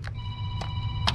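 A telephone rings in a garage during work on a C3 Corvette's trailing arm: short, bright electronic ring bursts with a sustained tone between them, fairly quiet and with no talking.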